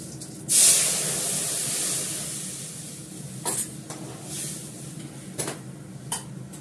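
Lentils (dal) tipped into a hot pan hit with a sudden loud hissing burst that settles into a steady sizzle, followed by a few scattered clinks of the pan and spoon.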